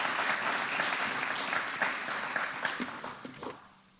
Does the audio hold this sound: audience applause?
yes